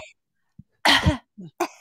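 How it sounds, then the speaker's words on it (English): A single breathy, exaggerated cough burst up close, followed by a couple of shorter vocal sounds. "Make it a sexy cough."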